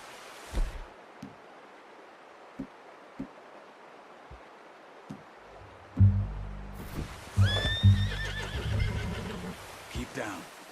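A horse in Red Dead Redemption 2 gives a loud, close whinny in the latter half, preceded by scattered soft hoof thuds and rustling in a quiet outdoor scene.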